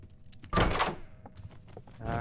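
A door opens with a heavy thunk in a Roblox horror game, one loud burst that then fades, with faint game sounds continuing afterward.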